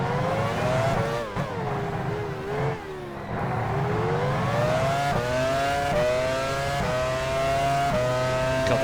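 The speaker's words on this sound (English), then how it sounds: "There's a car right behind me that is closing rapidly. You can hear them." A race car in the F1 Challenge 99-02 video game closes in from behind. Its engine whines loudly and climbs in pitch through the gears over a steady drone, with short dips between shifts.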